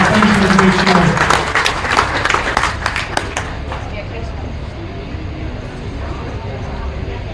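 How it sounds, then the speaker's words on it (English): Applause from the audience at a county fair market beef show, steady dense clapping that fades out over several seconds into faint crowd murmur, with someone talking over the first part. "Give us a big round of applause."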